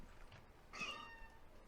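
A single cat meow, brief and clear at moderate distance, rising out of faint room noise in a quiet home.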